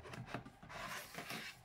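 Scissors snipping a short way into folded paper up to the fold for a scrapbook mini album: a short rasping cut with a few soft crunchy strokes, close up, no voices.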